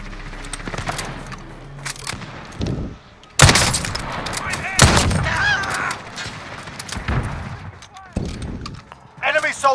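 Sniper gunfire in the Warzone battle royale game, several sharp loud cracks and booms scattered among game noise and someone talking excitedly.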